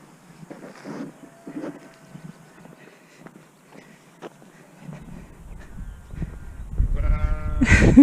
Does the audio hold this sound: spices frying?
no